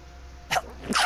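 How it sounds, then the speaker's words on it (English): A person sneezes during an online game session with friends, two quick bursts about half a second apart, fairly close and moderately loud over a quiet background. "Goddamn, I keep sneezing."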